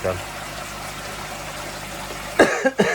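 A couple of quick coughs near the end, close by, over a steady background hiss of running water.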